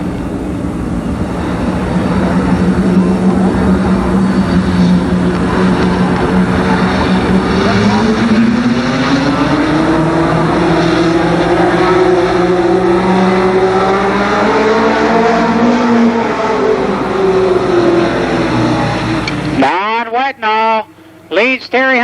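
Race cars roar around Columbus Motor Speedway in 1991, a loud sustained engine drone rising and falling in pitch as the pack passes, under a continuous announcer's voice, before breaking off at the end.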